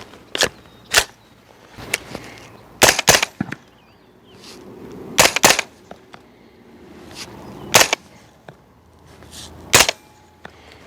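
Aero Precision EPC 9 AR9 pistol-caliber carbine fired semi-auto with a hydraulic buffer: sharp, loud individual shots spaced irregularly, about nine cracks spread over several seconds, each standing alone against a quiet background.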